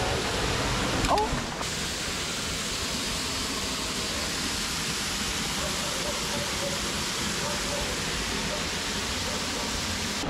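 Sgwd Gwladys waterfall in the Brecon Beacons gives off a steady, even roar of falling water that fills the whole span. There is a short knock near the start, and otherwise the rush continues unbroken.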